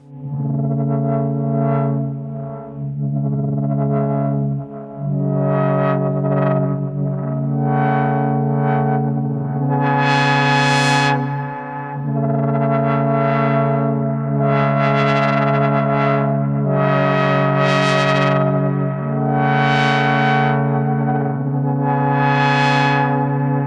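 A sustained synthesizer pad drones continuously, its tone repeatedly swelling brighter and darker in slow sweeping waves as the filter opens and closes, modulated by smooth random voltage and an LFO, with white noise modulating one oscillator's pitch.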